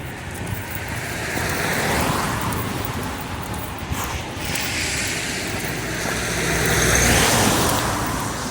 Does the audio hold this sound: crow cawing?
no